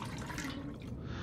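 Water being collected in The Long Dark, a faint, steady pouring or trickling like a tap running, heard alone without talk.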